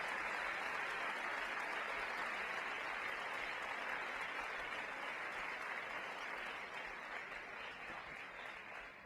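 A school audience at Roncalli High School applauds steadily, a dense wash of clapping that holds strong and then slowly tapers off.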